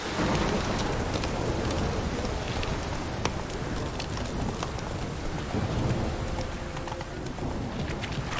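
Steady, dense rainfall pours in a video game, The Witcher 3: Wild Hunt, with low rumbling thunder rolling beneath and a few sharper drop hits, all at a moderate, even level with no talk.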